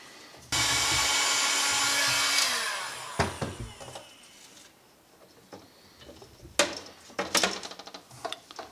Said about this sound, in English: I'm now going to take this heat gun and warm up this pipe without getting the heat on the LED strip and press fit it on here